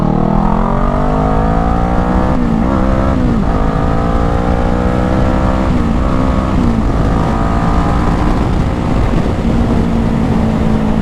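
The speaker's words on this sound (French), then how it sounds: "Allez on va tester une petite accélération après là." A Kawasaki ER6N motorcycle engine revs up hard through the gears, a loud, close, continuous roar rising in pitch with brief dips at each gear change, with no talking.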